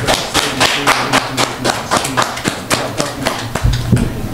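A few people clap their hands, a sparse, uneven run of sharp slaps with some dull thuds, fairly close and alone, with no talk.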